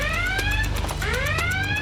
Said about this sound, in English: when he hears the high water level alarm